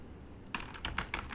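A command typed on a computer keyboard while setting up a Python virtual environment: a quiet pause, then a quick run of close, crisp key clicks in a short uneven burst.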